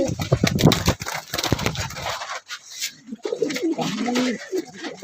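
Pigeons of a Chinese breed, including a female, coo softly and repeatedly up close in a loft, with rustling and low background noise throughout.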